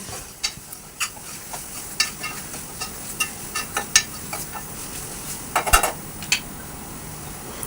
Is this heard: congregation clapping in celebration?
no